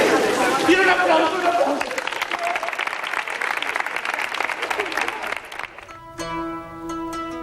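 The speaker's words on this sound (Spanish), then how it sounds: "¡Quiero un aplauso!" Audience in a classroom-style show applauding loudly, a dense burst of clapping that fades out and gives way to music.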